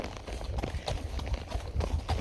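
Horse hooves clip-clop steadily on a Cuyamaca trail under a rider, an even plodding rhythm of close, clear footfalls with some rustle in the background.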